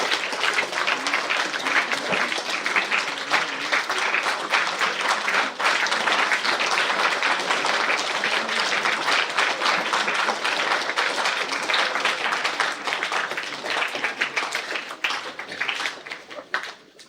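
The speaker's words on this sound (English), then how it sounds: "Let's give him a huge round of applause." Sustained, dense applause from a large crowd at a school prize distribution ceremony, loud and steady throughout before tapering off slightly at the very end.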